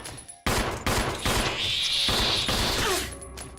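Rapid bursts of gunfire from a video game, loud and close, with dense overlapping shots and a sustained ringing layer in the middle, with no talking.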